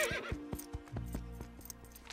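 A cartoon Arabian horse gives a short, bright whinny, followed by a run of light clip-clop hoofbeats nearby, in an animated show's sound mix with no voices.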